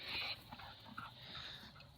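A dog with an injured, bleeding tongue pants and whimpers softly at close range, with short breathy bursts over about two seconds.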